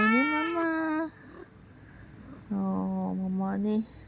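A mother cat named Miming meows twice, long drawn-out calls with a pause between them, close and clear.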